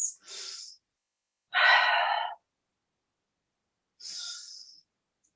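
Slow deliberate breaths in and out during a yoga balance exercise, three separate airy breaths, close and clear, with silence between them.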